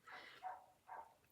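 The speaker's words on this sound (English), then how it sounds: "that high-pitched barking one that you hear the most" A young puppy yips in high-pitched barks, three short, fairly close bursts with pauses between them, and nothing else is heard.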